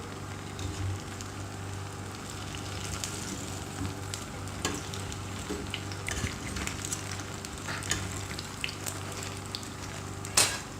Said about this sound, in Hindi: दोनों साइडें फ्राई कर लेंगे, टर्न कर करके फ्राई।